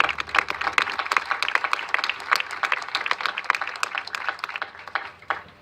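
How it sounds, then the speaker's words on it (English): A room of people at a government press announcement claps, sharp overlapping handclaps close by that build, hold steady and taper off toward the end. "So let's give them all a round of applause."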